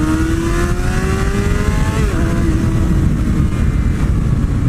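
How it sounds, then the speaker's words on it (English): A 600cc supersport motorcycle pulls away at quarter throttle, its engine note rising steadily and loud up close, with a second tone climbing alongside and continuous wind and road rumble underneath. "that was like quarter throttle. And you guys see how fast this bike accelerates"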